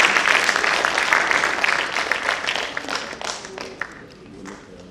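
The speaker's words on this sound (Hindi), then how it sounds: "आइए एक बार फिर अपनी तालियों से मुबारकबाद देते हैं।" An audience at an award function of the All India Kaifi Azmi Academy in Lucknow breaks into loud applause, dense clapping up close that gradually thins and fades over a few seconds.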